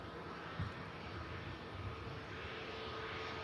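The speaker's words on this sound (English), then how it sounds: "This aircraft, though, is probably the best for this route. The A321neo." A British Airways Airbus A321neo at Manchester Airport gives off a continuous, fairly faint jet engine rumble with a steady broad roar and slight swells, with no talking.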